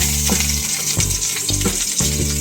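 Onions frying in a pan with garlic for chicken adobo in coconut milk, a steady loud sizzle with several sharp stirring knocks and scrapes at a regular pace, no voices.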